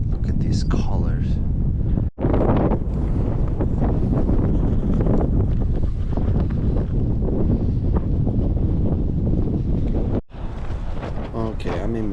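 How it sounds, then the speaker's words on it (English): Strong wind buffets a campsite near Roque Nublo on Gran Canaria, roaring steadily and loudly into the microphone for the whole stretch, with only two brief lulls. "It's quite windy, as you can hear."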